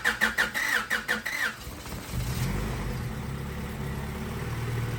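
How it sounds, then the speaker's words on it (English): A Honda B20 VTEC fitted with a Skunk2 Ultra Street intake manifold, Skunk2 header and upgraded camshaft cranks over in loud rhythmic starter bursts, then catches and settles into a steady, rumbling idle. "Now let's go for the startup."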